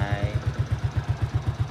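A Honda Astrea Prima motorcycle, freshly restored with candy silver paint, runs on its engine after the electric starter, a close, steady low putter with evenly spaced pulses throughout.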